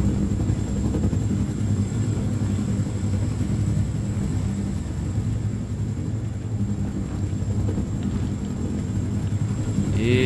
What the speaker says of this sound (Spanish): Es que son una pasada los helicópteros